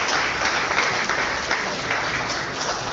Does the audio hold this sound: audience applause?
yes